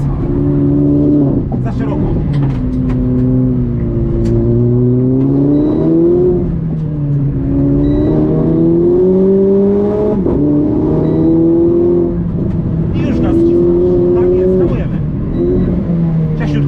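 A Renault Clio RS Cup race car engine revs hard on a circuit in Łódź, pitch sweeping up and down through gear changes as a droning in-car roar, with someone speaking over it.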